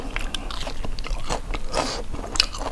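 Close-up crunchy bites and chewing on raw shrimp marinated in fish sauce, with irregular crisp crackles and wet mouth sounds running throughout and no talking.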